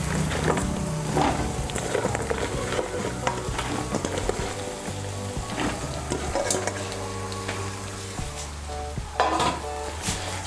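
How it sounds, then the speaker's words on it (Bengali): Chopped flat beans drop into a sizzling spice masala, raising a close, lively crackle that continues under repeated stirring and clinks of a spoon against the pot, with no voices. "এখন এর মধ্যে আমি দিয়ে দেব কেটে রাখা শিম।"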